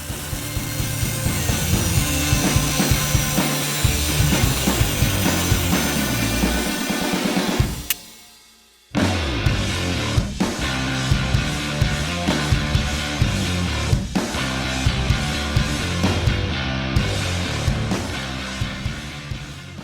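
Angle grinder fitted with a cut-off wheel slicing through sheet metal, a loud, continuous rasping whine with a brief drop in the middle as the cut pauses, then resuming steadily.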